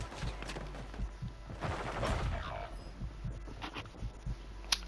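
Gunfire in the battle-royale game Dub BR, scattered bursts of shots at moderate distance, fairly faint, mixed under a player's speech and busy game noise.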